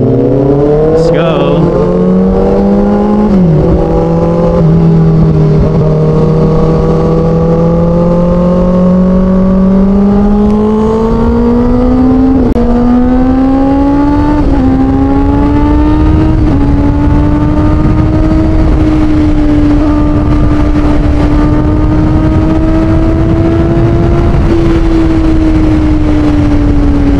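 Kawasaki ZX6R sport bikes revving and riding on a road, a loud continuous engine note rising and falling through the gears, with a second bike audible nearby.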